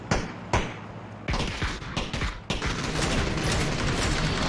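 Gunfire in the video game PUBG, several sharp separated shots followed by denser bursts of shooting, moderately loud over a busy background.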